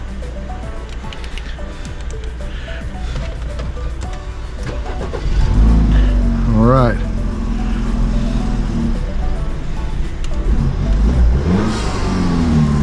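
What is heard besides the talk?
BMW car engine starting and revving after key programming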